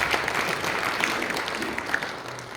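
An audience at a March 1st Independence Movement Day commemoration ceremony claps to close the guest introductions, giving a short, even burst of many hands applauding together.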